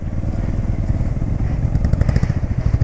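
A motorcycle crawls along a muddy mountain road on the way to Lachen in Sikkim, the rider paddling with both feet: a close, steady chugging engine with rough clattering and thuds throughout, and no talk.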